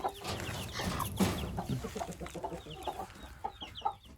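Chickens and chicks, including Araucana and Brahma birds, cluck steadily and chatter in a busy, close mix with overlapping calls throughout.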